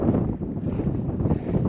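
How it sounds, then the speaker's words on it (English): Steady low rumbling wind buffeting the microphone on a farm field, continuous and fairly loud throughout, with no voices. "It's starting to get a little windy."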